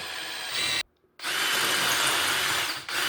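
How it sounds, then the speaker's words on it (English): A loud power drill with a 5/16 inch bit whirs through material, cutting out briefly into silence before revving back up and grinding on steadily. "I'm going to take a 5/16 drill bit and I'm going to drill all the way through"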